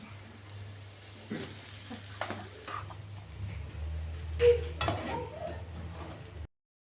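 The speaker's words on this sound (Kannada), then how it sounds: "ರೈಸ್ ಹಾಕೋಣ." Cooked rice tipped into a home-made mango rice mixture and stirred around a pan, with soft scraping and stirring scrapes, a few light clinks of spoon on metal, and a faint sizzle underneath.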